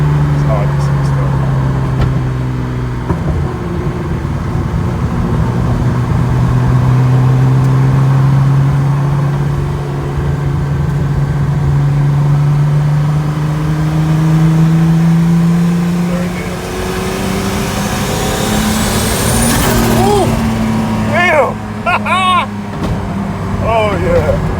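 Toyota MR2 fitted with a V6 turbo engine, driving on the road with a steady engine drone that rises in pitch toward the end, heard from inside the car while people talk over it.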